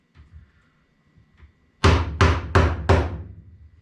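A regular hammer strikes a wooden clothespin four times in quick succession, loud sharp knocks close by, after a few faint handling sounds.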